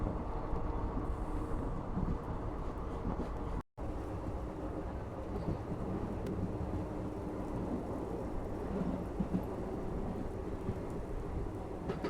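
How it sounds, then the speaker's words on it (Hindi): Heavy rain lashes against the Kanchanjunga Express, train 13176, as it runs at speed, a dense steady roar of rain mixed with the rumble of the moving train, with no talking. "क्या जबरदस्त बारिश शुरू हो गई,"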